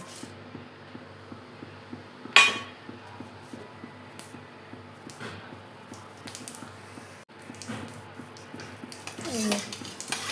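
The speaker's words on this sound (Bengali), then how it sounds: "তেলটা গরম হয়ে গেলে ফোড়নে দেবো এই যে ছোট এক চামচ কালো জিরা, এক চামচ জিরা আর দুটো শুকনো লঙ্কা" Black cumin, cumin and two dried red chillies are tempered in hot oil, producing a steady low sizzle with occasional clinks of a spoon against the pan, and one sharp clatter near the start.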